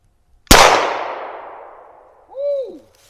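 A single .38 Special +P round from a revolver strikes a bulletproof helmet with a loud, sharp crack that rings out in a long, fading decay, followed by a short voiced shout.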